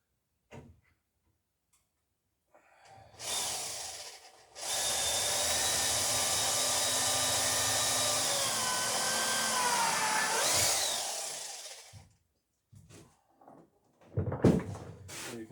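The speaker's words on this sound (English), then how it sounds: "you can definitely tell when you get the drill bit into the oak versus the pine" A power drill bores into oak and pine boat planking, a sustained whining run of several seconds with shifting pitch, framed by short bursts and quiet gaps, nearby and without talk.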